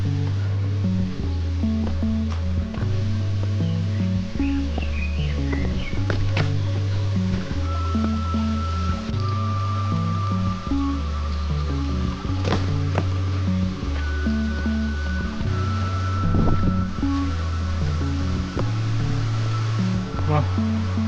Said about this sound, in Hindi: और ये झरने की आवाज़ और ज़्यादा तेज़ आती हुई